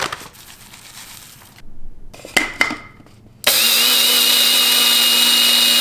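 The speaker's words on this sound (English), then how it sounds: "I'm gonna start off with the flax seeds. So I'm just gonna put a bunch in here and grind them up." Flax seeds are ground in a small electric grinder. Brief handling bumps and clatter come first, then the motor kicks in with a loud, steady, high whine that runs to the end.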